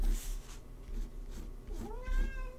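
A house cat meows indoors during a quiet drawing session, a few short close cries with a rising, wavering final meow, soft and unaccompanied by talk.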